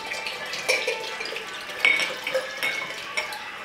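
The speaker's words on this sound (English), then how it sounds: "Now we're gonna pour it in here." Liquid being poured into a container, a soft continuous trickle and splash with a few light clinks of glass or utensils, fairly close.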